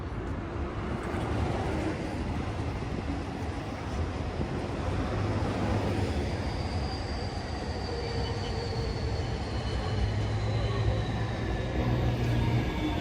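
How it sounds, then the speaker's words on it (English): A train passes on the rail line through the Okubo area of Shinjuku, Tokyo, a steady broadband rumble with faint wheel squeal that holds throughout amid busy street ambience. "Train from the left, it's pretty nice."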